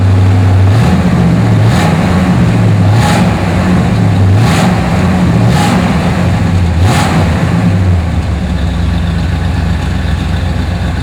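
A 1962 Pontiac Grand Prix with a 3-speed automatic drives along, its engine running in a loud, steady rumble that swells and eases in a regular rhythm before settling into an even drone.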